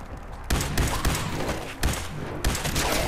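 A two-shot gun firing in Fallout 4, heard as a series of loud, punchy bursts at irregular intervals, each with a heavy low thump and crackling tail, with no voice over it.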